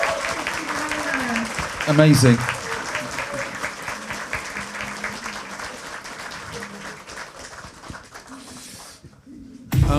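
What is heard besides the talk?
audience applause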